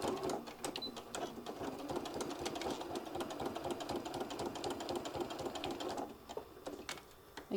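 A sewing machine stitches down a folded heart-shaped fabric case, running in a steady, close mechanical whir with rapid needle chatter for about six seconds before slowing to a stop.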